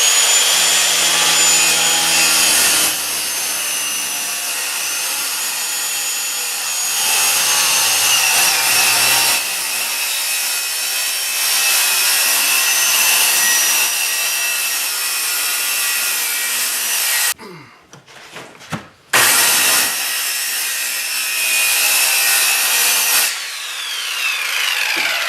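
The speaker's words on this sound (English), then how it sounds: "Just going to use my circular saw here. And you just plunge cut first." A circular saw makes plunge cuts through a mobile home wall for a front door replacement, whining loudly and steadily up close, with a brief stop and restart partway through.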